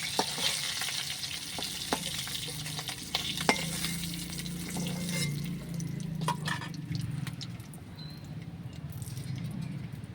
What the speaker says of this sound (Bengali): সবগুলো মাছই ভেজে নেওয়া হয়ে গেছে আমি নামিয়ে নিচ্ছি